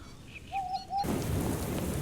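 Steady rain pours down on a ranch, starting abruptly midway with a loud broadband hiss and low thunder rumble, after a quiet opening with a few thin bird-like whistles.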